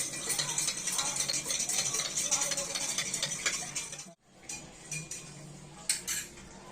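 A spoon stirs sugar into a glass of water with steady clinking and rattling against the glass, briefly pausing near the end before a few lighter taps, close and with no talk.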